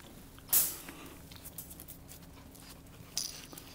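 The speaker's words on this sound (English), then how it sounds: "This is Franko, very friendly family puppy." A friendly family puppy pants and gives small whimpers close by, with a sharp yelp-like burst early and another short cry near the end over soft breathing.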